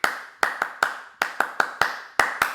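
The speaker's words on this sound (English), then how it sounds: "We're going to just clap that football chant that goes." Eleven crisp, close hand claps beat out a football chant rhythm: quick pairs and single claps in a syncopated pattern with a short ringing decay after each, and no voices.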